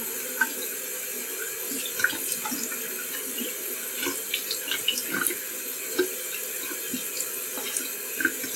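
Hot tap water runs steadily into a sink during rinsing, a soft continuous hiss with faint splashes and small clinks, fairly quiet and without speech.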